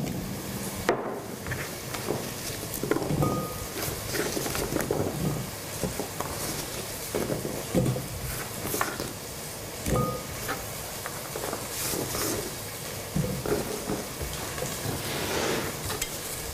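Sliced potatoes cooking in a pan, kept from browning: steady crackling sizzle with scraping and clattering stirring strokes throughout, close and fairly loud, no talking.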